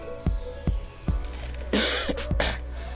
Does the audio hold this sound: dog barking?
no